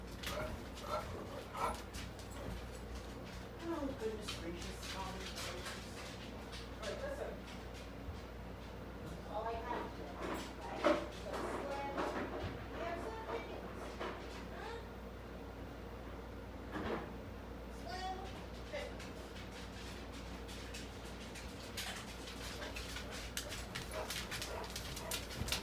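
Dogs in a home whine and give scattered barks and yips throughout, sitting under a steady stream of nearby talk and some household clatter such as cupboards.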